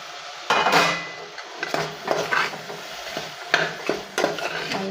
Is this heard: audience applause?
no